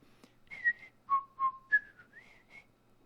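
A game character in Vscape whistles a short melodic tune, about seven clear rising and falling notes, close and alone against near silence.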